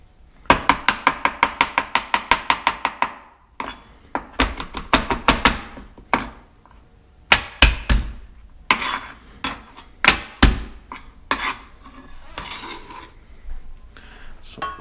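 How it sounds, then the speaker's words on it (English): A garlic clove is crushed on a cutting board with a fast run of sharp, loud knocks at first, then slower, uneven chops and thuds that continue with short pauses. "Some crushed garlic right there."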